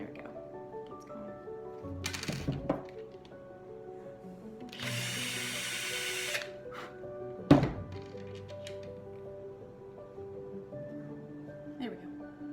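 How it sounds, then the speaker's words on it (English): A power drill bores further into a wreath in short bursts, with a sustained whirring run in the middle and a sharp thunk, under intermittent close talk and handling noise. "I may have to drill it a little bit further."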